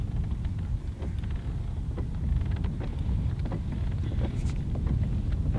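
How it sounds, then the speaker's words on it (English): Strong wind buffets the microphone out on a Hobie Pro Angler 14 kayak, a constant loud low rumble and roar with no pauses. "the wind is definitely blowing"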